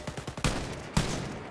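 Gunfire in Wolfenstein Youngblood: a few quick light shots followed by two heavy, booming blasts close up, each trailing into a rumbling echo.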